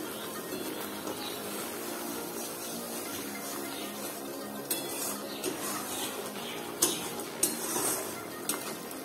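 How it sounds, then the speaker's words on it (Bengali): Ridge gourd is stirred in a pan over medium heat with a quiet background sizzle, broken by scraping and several sharp metallic clinks of a utensil against the pan toward the end. "আমি তাহলে দু মিনিট মতন এইভাবে নেড়ে নিচ্ছি"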